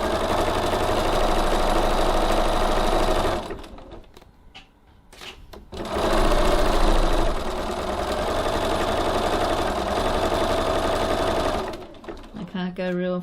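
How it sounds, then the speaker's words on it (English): A home sewing machine running fast, stitching soft and stable foam interfacing into a tote bag, a loud close continuous mechanical whir that pauses briefly midway, then restarts and runs on before stopping. "Go real fast here because it bounces my machine around like anything."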